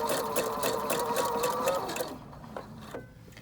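A Husqvarna Viking sewing machine runs in a fast, steady stitching whir while sewing on a button, close and clear. It stops after about two seconds, followed by a few faint clicks.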